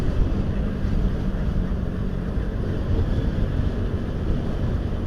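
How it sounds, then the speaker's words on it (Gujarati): Strong wind blows steadily and loudly in the open air at a roadside circle in Gandhinagar, where a large Indian flag flutters, buffeting the microphone with a continuous low roar throughout and no voices. "કેટલો પવન છે જબરજસ્ત."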